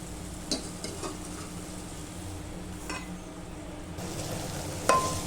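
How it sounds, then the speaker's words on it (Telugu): Eggplant and tomato curry being stirred in a pan, a soft steady sizzle with a few scattered scrapes and a brief utensil clink near the end, no talk. "కూర ఒకసారి కలుపుదామండి"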